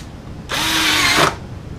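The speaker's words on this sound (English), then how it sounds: "Drill through here." A power drill whirs loudly for under a second, a steady high-pitched grinding bite through metal on a Suzuki Boulevard C50 bobber motorcycle build, stopping abruptly and leaving quiet room tone.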